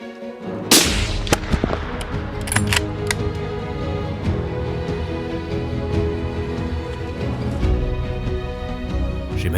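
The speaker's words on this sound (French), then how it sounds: "Je tire." A hunting rifle fires a single loud shot at roe deer in Sweden, a sharp blast followed by a long rumbling echo that fades over several seconds.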